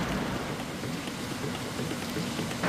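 Dense, steady rush of rainwater leaking, pouring and splashing inside a road tunnel, echoing in the enclosed space, constant throughout.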